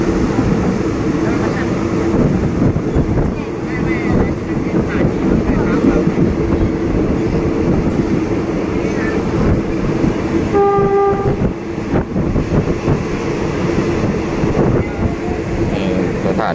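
Passenger express train 136 at Muak Lek station, a loud continuous rumble and rolling wheel noise heard from a train window, with a short horn blast partway through.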